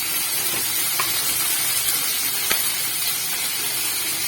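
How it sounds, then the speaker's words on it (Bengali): Cauliflower, potato and beans fry in a pan with turmeric and salt, giving a steady, dense sizzle with no breaks, close and even, broken only by a couple of faint clicks. "এটা এখন একটু ভাজা হবে, কিছুক্ষণ ভাজা হয়ে যাবে,"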